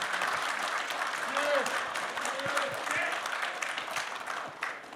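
Steady applause of thanks from an audience at a talk concert for Vietnam War veterans and bereaved families, a dense sustained clapping that fills the room for several seconds, with a few voices underneath.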